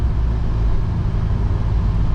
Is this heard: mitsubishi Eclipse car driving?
yes